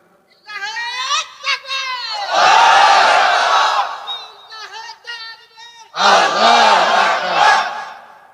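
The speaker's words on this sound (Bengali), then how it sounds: "দেন স্লোগান মারেন দেখি" A large crowd at a Bengali Islamic religious sermon shouting a slogan in loud unison, answering a leader's called lines in bursts of massed voices that swell and fade.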